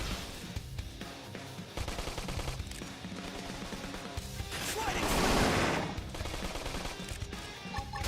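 Rapid gunfire crackles through a Xenoblade Chronicles X battle, dense overlapping bursts layered with combat effects and music that swell loudest midway before easing back.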